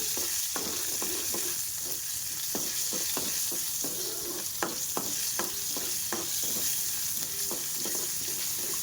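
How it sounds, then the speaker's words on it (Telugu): Tempering seeds crackle and pop in hot oil for coriander roti pachadi, a continuous close sizzle punctuated by frequent sharp little pops and spatters throughout. "తాలింపు గింజలు మంచిగా ఫ్రై అయిపోయినాయి"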